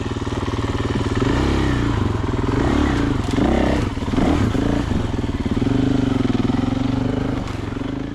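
A 500cc four-stroke snowmobile rides a snowy trail near Fairview trailhead, its engine droning loudly and steadily close by, the pitch rising and falling with throttle changes and some clattering over bumps.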